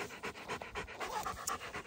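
A dog pants close by in quick, rhythmic breaths, about eight puffs in two seconds, moderately faint with no voices over it, during a behaviour assessment.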